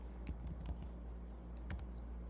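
A few sparse, light keystrokes tap on a computer keyboard, quiet and close, with a steady low hum underneath.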